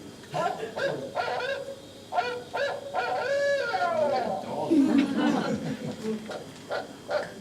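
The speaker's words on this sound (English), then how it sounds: "So this is the barred owl." A barred owl gives a series of loud hooting calls, some rising then falling in pitch, others harsh and throaty, in an uneven rhythm.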